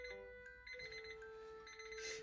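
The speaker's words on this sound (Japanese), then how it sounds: "鳥さんのタイマーが鳴ってしまった。" A bird-shaped kitchen timer rings indoors with a steady, bright electronic alarm tone held for a couple of seconds, fairly close and alone.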